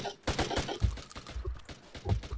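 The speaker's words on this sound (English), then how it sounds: "Burst firing our bullets to conserve on them is a very good tactic, I can say." Short bursts of automatic rifle fire in the Battlefield Vietnam video game, a few rapid volleys crackling close and loud against a busy battle mix.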